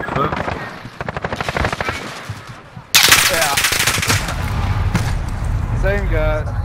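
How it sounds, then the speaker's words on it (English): Rapid automatic gunfire in Call of Duty: Modern Warfare, a rattling burst of evenly spaced shots followed by louder, denser firing and game noise, with someone talking over it. "He just shot me through a wall"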